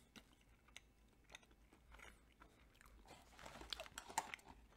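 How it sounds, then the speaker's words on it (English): Snack Attackerz Noosa cheesecake bite, original flavor, bitten whole and chewed close up, with soft wet crunchy mouth sounds that build toward the end, fairly faint over a quiet room. "we're going to have to go all in one bite"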